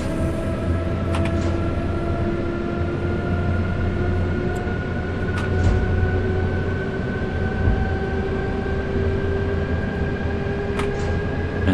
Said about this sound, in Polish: W kierunku do Katowic też jedzie